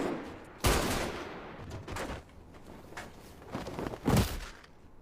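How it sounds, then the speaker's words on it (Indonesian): Several sharp gunshot bursts ring out in a film scene, spaced irregularly over a few seconds, with a heavier blast near the end, all fairly distant and muffled. "akhirnya Jiwoo memutuskan menembak Genji"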